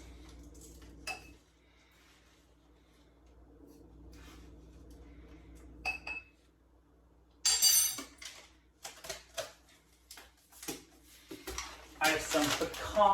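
A teaspoon of ingredient spooned into each of several containers: sparse metallic taps at first, then a busier run of close clinks and clatters of spoon against containers.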